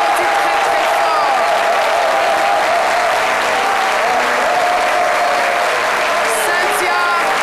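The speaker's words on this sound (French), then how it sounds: "Je vous demande de les applaudir très, très fort" Loud, sustained applause from a studio audience on a French midday TV show, packed clapping with some cheering running for over seven seconds, a voice faintly audible beneath it.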